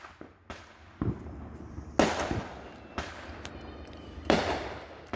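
Fireworks going off outdoors: a series of sharp, loud explosive bangs about every second, some with crackling tails, over a low background hiss.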